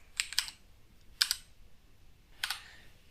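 Short bursts of keystrokes on a computer keyboard while C++ code is typed, three clusters of quick, crisp clicks separated by pauses, close and clear with no talk.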